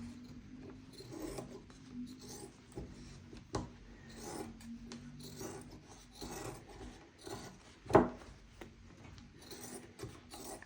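Fabric being cut by hand for a bedroom makeover craft, giving a steady rasping, rubbing sound close up with a sharper snip or knock near the end and no talking.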